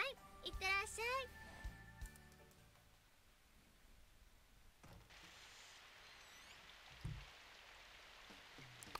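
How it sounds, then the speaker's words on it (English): Rain falling in the visual novel Symphonic Rain, a faint steady hiss that rises after a door sound midway, following brief voiced chatter and a few chimes at the start. "I stepped outside into the rain. Today's rain was heavier than usual."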